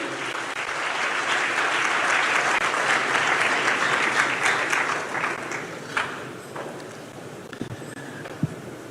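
Loud sustained applause from a large university ceremony crowd welcoming engineer Dr. Felix Atrim as auctioneer, dense clapping for about six seconds that tapers into scattered claps and faint murmurs.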